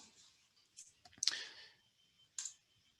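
A few sharp, faint mouse clicks in a quiet room while using the Update COGO tool in ArcGIS Pro, with two stronger clicks standing out from the near silence.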